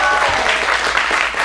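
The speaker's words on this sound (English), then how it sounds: "Let's have a round of applause for her." Audience applause fills a drag performance venue, a steady, dense clapping from the crowd that runs loud and even for the whole short moment, with no voices standing out.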